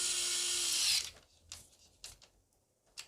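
A screw is tightened into the terminal of a homemade electrical outlet with a power screwdriver, giving a loud, close whirring burst about a second long. A few brief clicks and taps follow in near silence.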